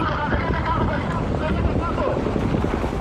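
Strong wind at a wildfire near Ierapetra buffets the microphone in a constant loud roaring rush with no breaks, while a person talks underneath.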